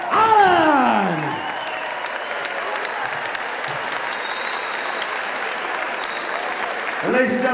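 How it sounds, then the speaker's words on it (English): A crowd at an MMA event applauds and cheers the winner of a bout ended by doctor stoppage, sustained loud clapping throughout, with an announcer's amplified voice booming over it at the start and again at the end. "a big, big round of applause to your Kim Dinghaugen"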